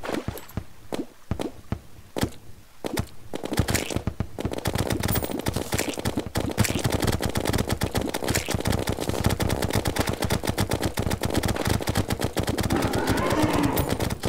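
The Minishark in Terraria fires in rapid bursts: a few spaced shots at first, then an unbroken machine-gun stream of quick, sharp pops that runs loud and steady to the end.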